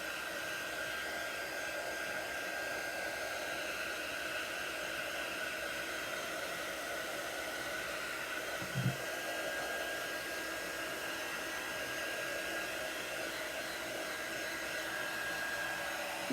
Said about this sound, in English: hit this with the heat tool for a minute